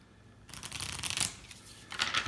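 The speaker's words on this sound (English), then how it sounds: "And do a little shuffling." A deck of cards from the board game Pavlov's House is shuffled close up. Two bursts of quick riffling flutter come in sequence, with a short pause between them.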